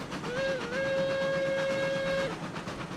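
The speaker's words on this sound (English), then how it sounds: "Alright, hitting the whistle." The steam locomotive whistle in the railroad game RailRoads Online gives one sustained, slightly wavering tone for about two seconds over the steady rumble of the moving train.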